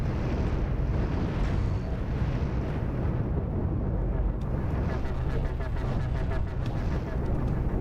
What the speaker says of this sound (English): One of the nukes did get to go off right here.